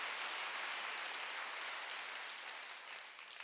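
Congregation applause during a Wednesday church worship service, a continuous wash of many hands clapping that holds steady and then eases slightly at the end, fairly soft.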